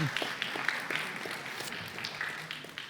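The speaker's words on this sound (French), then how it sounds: "On peut l'applaudir aussi" Quiet applause from a church congregation at a Sunday service, a soft, distant patter of many hands with scattered sharper claps, steady for about three seconds and faintly mixed with murmuring voices.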